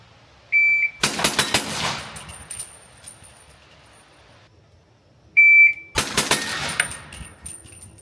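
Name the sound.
338 ARC rifle firing subsonic rounds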